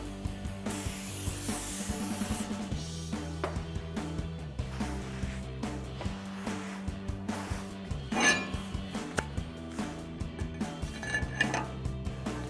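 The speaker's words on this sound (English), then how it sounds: "take some brake clean and a clean microfiber towel, spray it down and wipe it down" A brief spray of brake cleaner hisses, then a microfiber towel rubs over a Ford F-150 brake rotor in quick repeated strokes, with occasional light clinks and taps.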